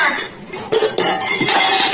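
Dishes are washed by hand, with pots, plates and cutlery clattering and clinking together in a busy, continuous jumble close by.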